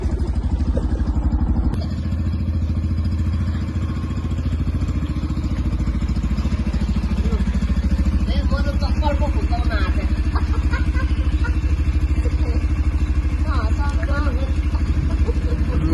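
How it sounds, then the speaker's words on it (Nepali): A new Yamaha FZS V3 BS6 ABS motorcycle runs with a steady, loud engine drone and rattle, close and continuous, with faint voices and wind noise over it. "भाइले आज दामी नयाँ बाइक लिनुभएको छ"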